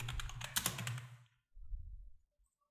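A quick burst of typing on a computer keyboard while editing WordPress pages, with close, clicky keystrokes, then a brief pause and a few softer taps.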